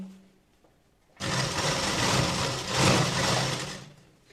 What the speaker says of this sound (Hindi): सिर्फ खोलते जाएंगे और सिलाई लगाते जाएंगे।